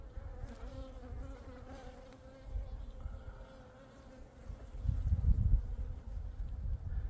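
Honeybees buzz around their hive, a continuous close hum that swells louder near the end, with no talking.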